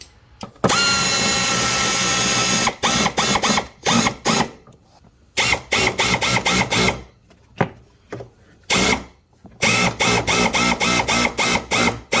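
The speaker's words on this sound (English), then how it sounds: "start screwing it back together" A power drill drives screws back in while a 2013 Ford E-250 with the 4.6L engine is reassembled after A/C repair, sounding in repeated close, loud whirring bursts separated by short pauses.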